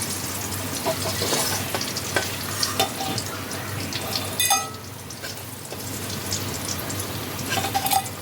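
Bitter gourd pieces fry in oil until reddish for a Bengali tetor dal, a continuous close sizzle with scattered pops and clinks, heard alone.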